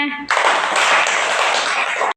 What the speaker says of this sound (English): Clap பண்ணுங்க.